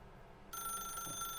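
A telephone starts ringing in the video game The Stanley Parable, a sustained electronic bell tone that begins abruptly after a moment of quiet room hum and continues steadily.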